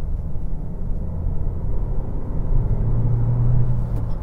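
A 2021 Nissan Qashqai in sport mode rumbles steadily as it downshifts, its engine tone rising and strengthening partway through, close and without speech.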